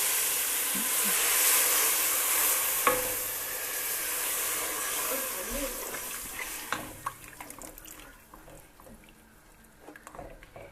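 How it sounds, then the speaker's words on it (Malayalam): Water poured into a hot pan of fish head curry base with turmeric hisses loudly in a broad sizzle, then gradually dies down, leaving quieter bubbling and a few sharp clinks of a utensil. "ഇനി നമുക്ക് ഇതിനകത്തിട്ട് വെള്ളം ഒഴിച്ചു കൊടുക്കാം."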